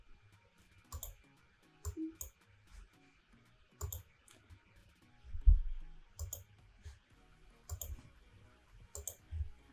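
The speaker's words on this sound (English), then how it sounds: "Again, I type my channel name" Typing on a computer keyboard, close and quiet, in short uneven bursts of clicks separated by pauses, with no talk.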